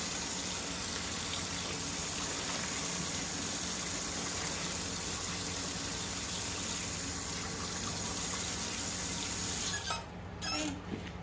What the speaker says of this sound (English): We are going to rinse everything off.